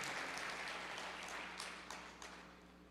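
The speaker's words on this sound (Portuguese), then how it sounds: "Pode aplaudir o Senhor." A church congregation applauds during a worship service, a soft, steady patter of many hands that fades gradually over a few seconds, heard at a distance with no voices over it.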